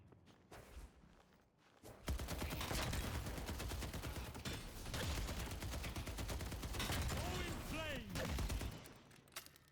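Shotgun fire in the Deadlock video game, a sustained dense volley of loud blasts and mechanical clatter after a quiet start, with a player talking faintly beneath it.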